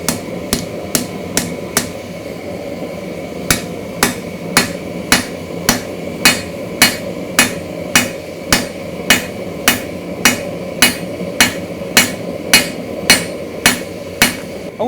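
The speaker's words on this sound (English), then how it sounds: "Let's go ahead and switch to a standard hammer." Standard hammer striking a keris blade during forging, a long steady series of sharp metallic blows roughly every half second after a few quicker early hits, close and loud with no talk.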